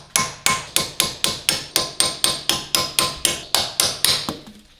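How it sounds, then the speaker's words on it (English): A hammer strikes a chisel against a BMW E46 wheel hub nut in a steady run of about seventeen sharp metallic blows, loud and close, with no talking. "So you can use the chisel and hammer it out so that we will be able to turn it."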